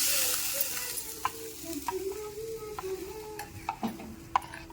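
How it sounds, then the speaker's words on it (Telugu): Hot tempering (tadka) with turmeric sizzles into a yogurt curry for dahi pakoda, a steady frying hiss with scattered clicks and stirring scrapes, fairly quiet and continuous with no talk. "మనం పెరుగు చారు చేసుకొని పెట్టుకున్నాం కదా, ఇందులో ఇప్పుడు నేను తాలింపు వేసేసుకున్నా."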